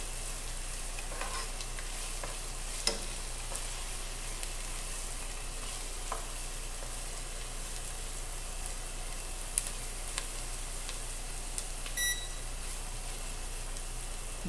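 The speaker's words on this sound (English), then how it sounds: "You want to do the sauteing over like a medium heat so that it doesn't brown, but only softens the onion and cooks the garlic" Onion and garlic sauté over medium heat in a pan, a steady close sizzle and crackle that runs the whole time, with a few faint scrapes and small beeps and no one speaking.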